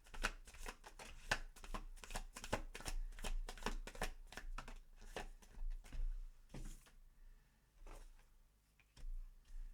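Tarot cards are shuffled by hand in quick, close, crisp riffling bursts, some rapid and dense, others sparse and separated by short pauses, with no talking.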